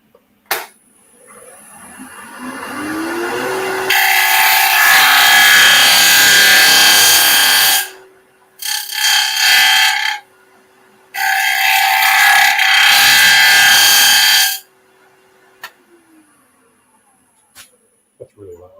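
A half-round bar shear-scrapes face-grain wood on a lathe, giving loud, harsh, broadband scraping in two long bursts of several seconds and one shorter burst, with quiet gaps and faint motor hum between them.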